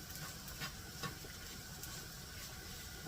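A butter and flour roux in a pan gives off a soft, steady sizzle and faint frying hiss, broken by a few light scrapes of stirring, quiet and close with no voices.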